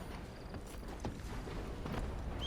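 Horse hooves clip-clop in the Red Dead Online video game, a steady walking rhythm of soft, moderately close steps with faint ambient background and no talk.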